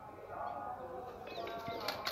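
Pigeons just brought back from a flight, cooing softly in a low, rolling murmur at close range, with a few faint chirps and light rustling behind.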